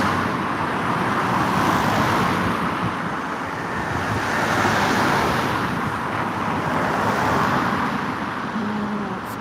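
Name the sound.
busy road traffic, cars passing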